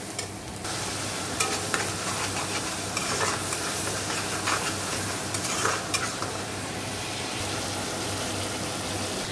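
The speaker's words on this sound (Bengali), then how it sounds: "এবার ভালো করে মশলাটা কষে নেব" Chana masala spice paste of coriander, cumin and Kashmiri chilli powder fries with a splash of water in a pan, giving a steady, close sizzle with scraping stirs throughout and no talk.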